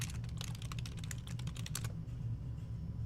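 Rapid typing on a computer keyboard during a late-night terminal session, a dense run of close, crisp keystrokes for about two seconds, then stopping, over a steady low hum.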